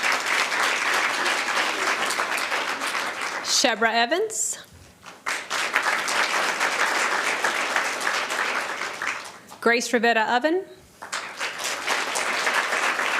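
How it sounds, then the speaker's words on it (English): Applause at a board of education meeting, with loud, steady clapping from the audience and two short breaks where a man announces names over the room. "Let's give her a round of applause."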